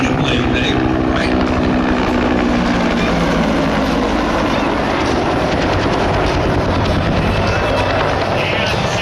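An AH-1 Cobra helicopter at an outdoor event churns out a loud, steady rotor-blade roar with a continuous wash of engine noise throughout, close by and constant.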